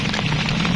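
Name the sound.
rain falling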